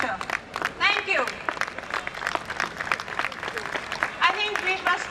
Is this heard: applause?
yes